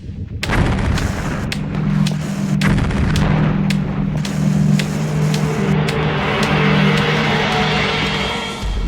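Russian Zapad military exercise artillery fire: a rapid series of loud, sharp blasts in close succession over a steady low rumble of vehicle engines, continuing throughout.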